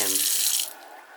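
Water gushes briefly from a wash-and-dry sink unit, a loud close rush that fades within about a second.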